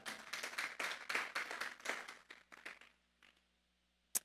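A church congregation claps in a quick, lively burst that fades out after about three seconds, leaving near silence and one last sharp clap.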